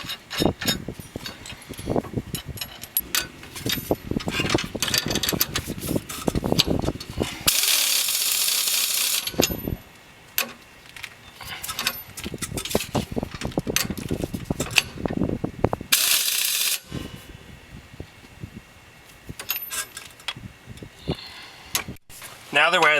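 A ratchet wrench tightens U-bolt nuts during a Jeep leaf spring install, giving bursts of rapid, close clicking with short pauses between them, and a voice talks over much of it.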